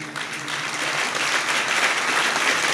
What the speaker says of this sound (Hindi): जितने लोगों ने अपने हाथ से ताली बजाई है